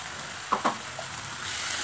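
Ground turmeric, cumin-pepper, coriander and chilli powders sizzle and fry in oil over high flame for a cauliflower potato curry, a steady soft hiss with two brief stirring scrapes near the middle.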